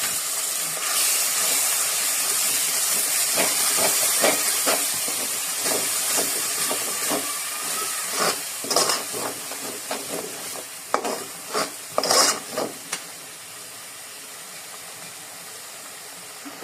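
Spice paste of chili, onion, turmeric, coriander and salt for taro sizzles and hisses steadily in a pan, with repeated scraping stir strokes growing sharper and more clustered toward the end.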